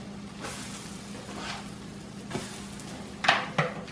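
A pancake fries in a pan with a soft, steady sizzle, close by and fairly quiet, broken by a few light utensil scrapes and taps near the end.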